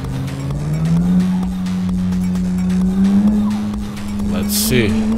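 A Ferrari supercar driven in the Live for Speed racing game, its steady engine drone holding a constant pitch throughout, with a brief tire squeal near the end and talk faintly over it.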